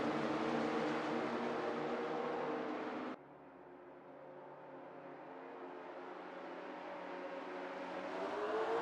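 1970 V8 race cars in a racing video game accelerate off the start at Autosport Speedway Oval, a loud layered engine roar that cuts abruptly to a quieter drone before building steadily again.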